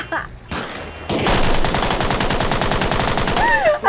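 Mounted gun firing in Arma Reforger with a Fallout mod: a long, steady burst of rapid automatic shots, loud and close, running for several seconds after a brief pause with a short voice at the start.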